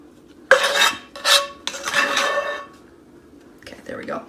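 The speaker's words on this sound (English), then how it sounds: "I know that's loud, hold on. I'll talk after I scoop." A utensil scoops food out of a container during meal prep, giving several loud scraping and clattering strokes in quick bursts, close to the mic, with a soft voice briefly at the end.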